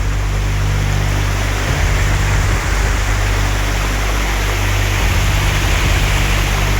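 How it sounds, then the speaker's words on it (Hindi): Waterfalls tumbling down the stone steps near the ancient Bedse Caves, a steady, dense rush of falling water that stays loud and continuous throughout, with no voices. "और तो कई स्टेप से ही वाटरफॉल बन जाते हैं"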